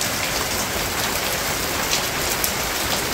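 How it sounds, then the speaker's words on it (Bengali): A steady downpour falls outdoors, a close, even roar of raindrops with a few sharper drop hits and no talking. "বৃষ্টি ভালোই হইতেছে"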